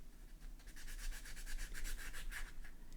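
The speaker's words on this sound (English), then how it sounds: "Sand the edge of the earring as well." Rhythmic back-and-forth rubbing as the edge of a small handmade spiral earring is sanded, a soft, close, quiet scratching in quick regular strokes, with no voices.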